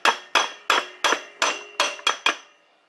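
Eight sharp metallic hammer blows drive a 700R4 transmission output shaft into place, struck at a steady, slightly quickening rhythm with ringing decay after each hit, close and loud.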